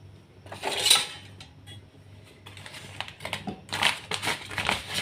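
A wok being readied on the stove for cooking buttermilk chicken gives off clattering metal knocks and scrapes. A sharp burst comes near the start, then lighter taps and clinks follow in loose, irregular bunches, up close with no talking.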